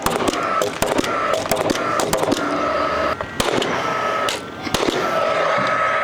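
A nail gun drives fasteners into timber posts on a house build site, firing in rapid sharp bursts of cracks with brief pauses, loud and close, with no talk.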